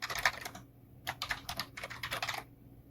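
Code is typed on a computer keyboard in short bursts of quick close key clicks separated by brief pauses, crisp and alone without talk.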